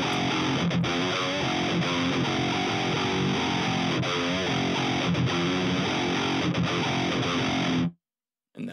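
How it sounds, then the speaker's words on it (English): An electric guitar plays steadily through an Audio Assault Hexen Boost overdrive pedal, giving a loud, dense distorted tone that runs continuously, then cuts off abruptly near the end. "Turn this one on, get a little bit of overdrive, drag the level down, and put a little bit of tone in it."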